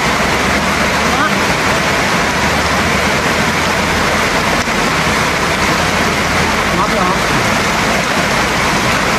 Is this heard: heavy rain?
yes